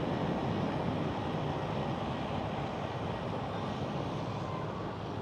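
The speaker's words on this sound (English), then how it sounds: "There she is. Brand new A321neo." A brand-new Airbus A321neo airliner arriving at Schiphol Amsterdam, heard as a steady, loud broadband jet roar that holds at a constant level throughout.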